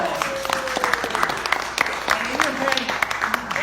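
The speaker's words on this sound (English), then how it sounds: "Give a round of applause." A theater audience at a fringe festival show claps in sustained applause, a dense patter of many hands with a voice faintly underneath.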